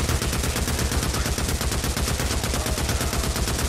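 An MG55 machine gun in Days Gone fires in one long rapid, evenly paced burst into an approaching horde, loud and close throughout, with no talking over it.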